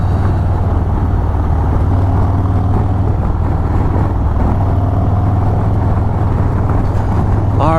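Motorcycle cruising on a freeway with steady engine drone and constant wind rush, loud and continuous for several seconds.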